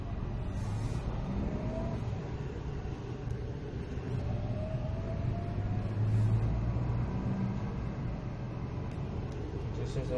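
A Datsun Redi-Go small car running on CNG drives along in third gear, giving a steady low engine and road rumble heard from inside the cabin, even and moderately quiet with a slight swell midway.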